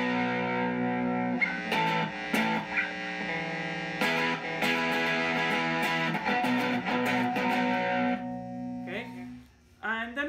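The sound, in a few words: electric guitar with distortion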